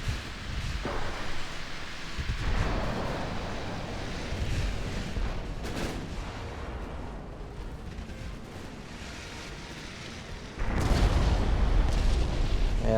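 Naval guns firing in Ultimate Admiral: Dreadnoughts, in an 1890-era hulls battle: heavy booming blasts over a continuous rumbling roar, with a louder, denser burst of firing near the end.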